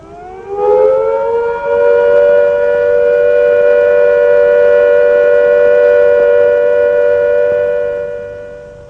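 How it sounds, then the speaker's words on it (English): A civil defence siren sounds a steady all-clear note signalling that the danger of air attack or fallout has passed: the wail winds up quickly, holds one loud unbroken pitch for several seconds, then fades slightly at the end. "When the immediate danger of air attack or fallout has passed, the siren will sound a steady note like this."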